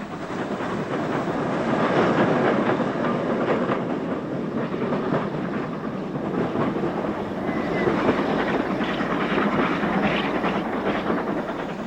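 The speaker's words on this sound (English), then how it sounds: "one of the large pannier tanks hurries along with a Cheltenham to Paddington restaurant car express" A large pannier tank steam locomotive hauling a Cheltenham to Paddington restaurant car express rumbles steadily past with a dense, continuous roar and faint rhythmic clatter of wheels, fairly close, with no voices.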